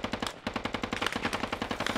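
Rapid automatic machine gun fire in the military shooter game Squad, a steady rhythmic burst of loud repeated shots running throughout with a brief gap early on.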